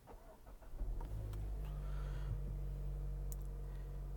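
Push-button start of a 2019 Mazda CX-9 GT AWD: a short whirring crank in the first second, then the engine catches and settles into a low, steady idle hum, quiet and close, with no voices.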